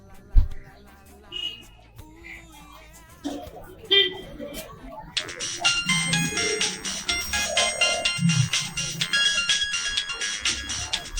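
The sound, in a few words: phone ringtone ringing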